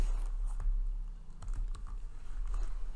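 Keys clacking on a computer keyboard as a name is typed, a quick run of close, light taps with short pauses between bursts.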